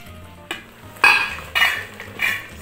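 Chicken fries in an electric pressure cooker while a utensil stirs and scrapes the pot in three or four loud, close bursts over a soft background sizzle, with no talk.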